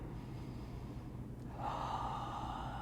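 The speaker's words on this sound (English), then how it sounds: "And breathing in and out." Deep breathing during a gentle yoga class: one slow airy inhale or exhale shifts into a louder, breathier breath, close and alone.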